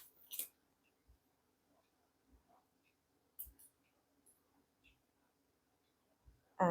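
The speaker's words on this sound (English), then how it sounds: "now let us first cut this tail off" Small scissors snip the thread tail of a handmade beaded pendant in a quiet room, giving a few soft, close, isolated clicks spaced a second or so apart.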